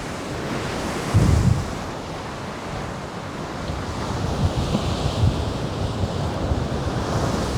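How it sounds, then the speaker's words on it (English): Big storm waves crash on the shore at Paphos during Storm Byron, a broad continuous roar of surf with heavy wind buffeting the microphone and a louder gust-like burst early on. "Probably like nice big waves."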